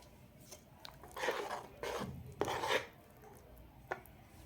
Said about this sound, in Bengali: তেল দিয়ে হ্যান্ড উইচের সাহায্যে ভালোভাবে মিশিয়ে নিব।